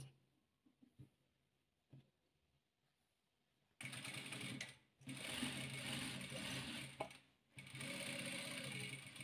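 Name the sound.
sewing machine stitching quilt squares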